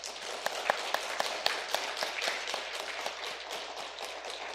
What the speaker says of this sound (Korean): 여러분 격려 박수 한번 보내주시기 바랍니다.